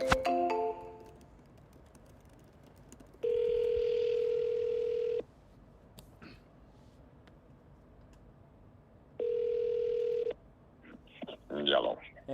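Telephone dialing tones and ringback on an outgoing phone call, with two long steady tone bursts separated by quieter gaps, preceded by brief keypad beeps and followed by a faint voice picking up.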